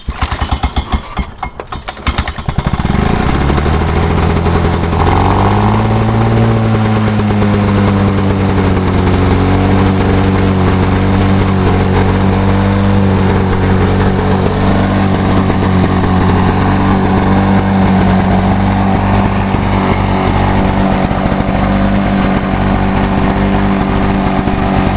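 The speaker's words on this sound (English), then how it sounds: "Yep, still running good. Not bad for a 30-year-old lawnmower." A 30-year-old lawnmower engine starts after a few seconds of rattling and then runs steadily at a loud, close, continuous drone for the rest of the clip.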